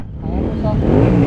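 Suzuki Hayabusa superbike with a slipping clutch pulling in at a college auto show, its engine note swelling louder and closer over a brief stretch, with people talking nearby.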